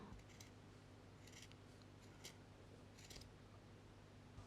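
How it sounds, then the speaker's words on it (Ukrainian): Scissors snip crochet threads on a snowflake ornament, several quiet, crisp clicks spaced out over near-silence, with a slightly louder snip at the very end. "Тепер обрізаю ось ці ниточки, щоб вони не були петлями."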